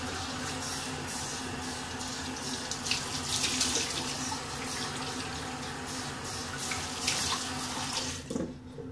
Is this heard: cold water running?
yes